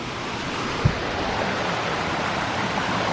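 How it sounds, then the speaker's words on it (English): A small waterfall on a nature walk near Cherokee, North Carolina, flows steadily, a constant broadband rush with no pauses and one faint thump early on. "Little waterfall over there."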